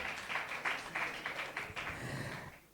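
Clapping from a conference audience, a dense, fairly even wash of many hands that swells in bursts and tapers off near the end, with no voices over it.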